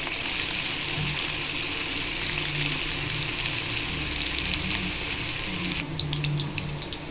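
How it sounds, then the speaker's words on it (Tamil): Cabbage pakoda fries in hot oil in an iron kadai, giving a continuous bubbling sizzle at moderate level. A brighter crackling burst comes near the end, and no one speaks. "இது மாதிரி கொஞ்சம் கொஞ்சமாக போட்டு பொரிச்சு எடுத்துடலாம்"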